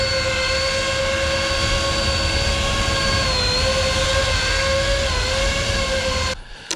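A Horizon Hobby RC foam airplane taxis with a steady, loud electric motor whine holding a constant pitch that dips slightly, cutting off abruptly near the end.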